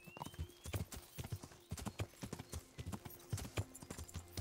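Rapid, rhythmic clip-clop of horse hooves at a brisk riding pace in Kingdom Come: Deliverance, close and steady throughout.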